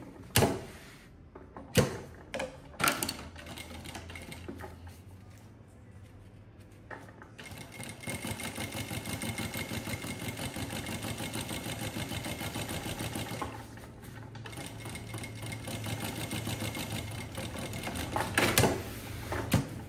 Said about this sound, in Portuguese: Costurei, vou costurar o fundo.